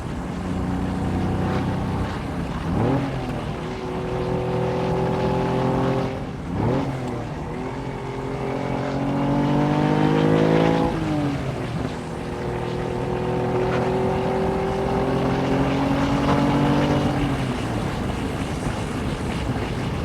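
Engine note of a 1972 Ferrari 246 GT Dino heard from inside while it cruises back roads in fourth gear, a loud, close drone that swells and eases as the revs rise and fall several times.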